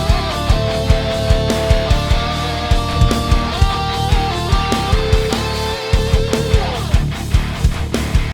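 A melody doubled a third apart, moving in steady parallel lines over a full band with a punchy, regular drum beat, loud and continuous throughout.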